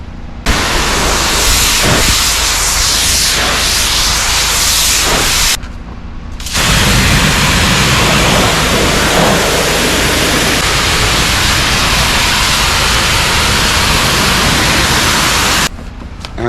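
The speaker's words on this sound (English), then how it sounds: "I am using a tip that uses medium pressure, somewhere between like 800 and 1000 psi. I use that for like high pressure rinsing" A pressure washer fitted with a medium-pressure tip sprays boards at roughly 800 to 1000 psi during a spring exterior cleanup in Fairfax, Virginia. The spray is a loud, steady broadband hiss, cut off by two brief gaps where the trigger is released.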